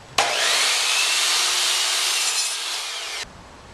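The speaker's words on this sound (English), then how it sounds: "We'll take this to the miter saw and we'll make our cuts." A miter saw slices through wood stock in one continuous loud whine lasting about three seconds, starting abruptly and cutting off sharply, with no talking.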